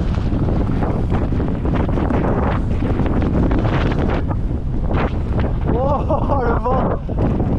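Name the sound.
wind noise during mountain bike ride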